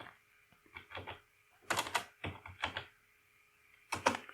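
Typing on a computer keyboard, close, with bursts of clicky keystrokes separated by short pauses and a final firm key press, no talking.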